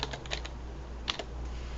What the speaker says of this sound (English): I just typed it from the keyboard, my keyboard, not from theirs.